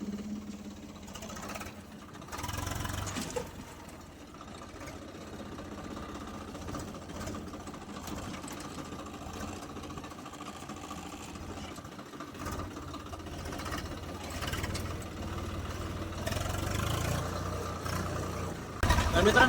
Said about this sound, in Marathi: आपण आहे ना ट्रॅक्टर घेऊन चाललोय बागातून